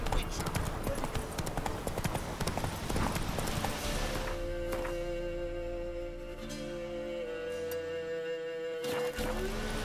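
A horse gallops in The Witcher 3 video game. Its rhythmic clip-clop hoofbeats run steadily and close, with voices and game music layered over them.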